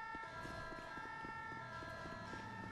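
An ambulance siren wails steadily in a GTA roleplay game, faint and continuous behind a low rumble of engine and traffic.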